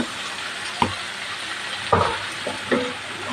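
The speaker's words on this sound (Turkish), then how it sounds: "Patlıcan da şöyle bir yağ ile alazlansın arkadaşlar." Eggplant pieces hit hot oil alongside already-browned peppers for a vegetable stew, giving a close, steady sizzle and hiss with a few sharp stirring knocks and scrapes.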